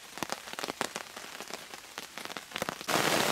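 Heavy rain drumming on a camp tarp beside a river, dense irregular patter of drops close by, building to a loud steady downpour near the end.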